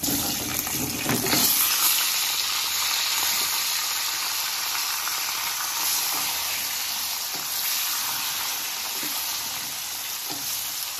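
Potatoes drop into hot oil seasoned with black cumin and a green chili, a brief clatter giving way to a loud, steady hissing sizzle that stays close and continuous.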